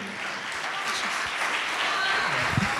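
A church congregation gives a sustained, dense round of applause, many hands clapping together at steady loudness for the whole stretch with no pause.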